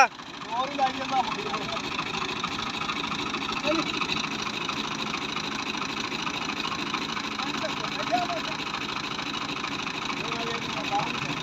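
A tractor engine runs steadily while the tractor is stuck down in a ditch or field channel. The drone is continuous and fairly close for the whole stretch, with voices heard over it.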